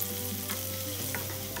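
Finely chopped onion frying with chicken gizzard in a pan, a steady close crackling sizzle with stirring scrapes throughout.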